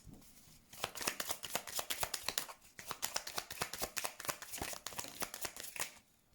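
Tarot cards shuffled and laid out on a table, a close run of quick riffling snaps and slaps in irregular bursts with brief pauses between them.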